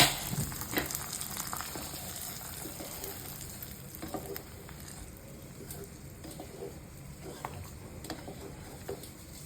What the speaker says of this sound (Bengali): এখন ভালোভাবে খিচুড়িটা নেড়ে নিতে হবে